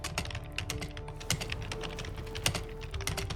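Rapid computer keyboard typing during a Lost Ark session, a dense, even stream of close key clicks with a few louder taps, no talk.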